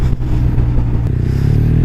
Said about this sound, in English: this has got an aftermarket can on it. Can you hear it? The exhaust is brilliant.